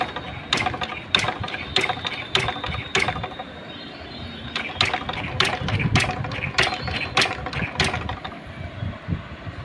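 A TVS Victor GL motorcycle in gear with its wheel turning gives a steady mechanical whir and rattle, broken by sharp repeated ratcheting clicks in two bursts. It is close and moderately loud, with no voices.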